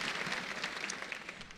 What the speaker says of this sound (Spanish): Sí, señores, eso sí hay que aplaudir